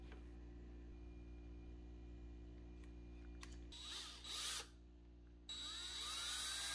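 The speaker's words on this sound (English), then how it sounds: "I drill out the holes for the joint pins" A small power drill whirs in short bursts, nearby, drilling joint pin holes in a wooden swimbait lure, after a quiet stretch of low steady hum.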